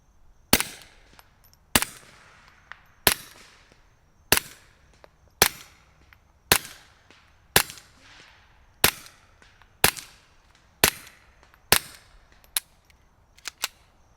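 Suppressed rifle shots from CCI standard ammunition through a Hansohn Brothers MOD F4 suppressor, about eleven sharp cracks spaced roughly a second apart, loud and close with short decaying tails and no talking.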